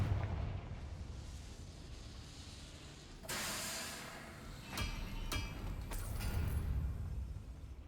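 A Confringo fire spell blast from the Hogwarts Legacy video game bursts in with a sharp explosive whoosh, followed by several crackling, hissing impacts fading over a low rumble of ambient game sound.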